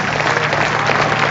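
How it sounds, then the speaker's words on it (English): Spectators at a women's one-day international cricket match between England and India applaud two runs with dense, continuous clapping that fills the whole moment, loud and fairly near, with no clear talking over it. "The crowd appreciate that."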